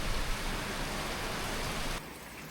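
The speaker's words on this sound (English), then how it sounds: "the minute I reached my room, it started raining." Steady rain falls outside a hotel room in the Solomon Islands in the Pacific, a dense, even hiss that drops in loudness near the end.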